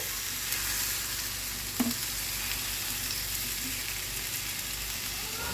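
Chicken tikka sizzles steadily in a pan over a low-medium flame, a close, even frying hiss with one brief clack partway through and no talking.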